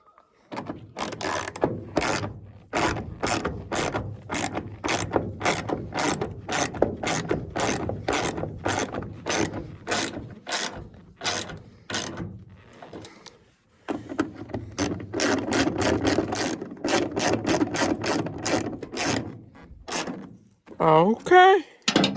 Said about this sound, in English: Okay, now you can get them with the ratchet.